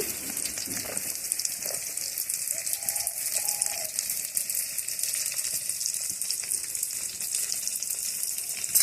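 Beans and other vegetables sizzling in a hot pan for egg chicken chow mein, a steady close hiss of frying with occasional stirring clicks, no talk over it.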